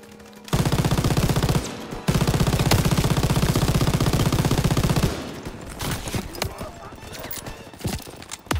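Sustained machine gun fire in Call of Duty WWII, a loud, dense burst running for several seconds with a short break, then giving way to scattered shots, impacts and battle noise.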